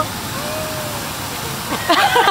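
Water falls at a waterfall, a continuous rushing wash close by, with excited voices and splashing rising near the end.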